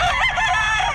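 A rooster crows loudly and close by in one continuous call lasting under a second, alone with no talk.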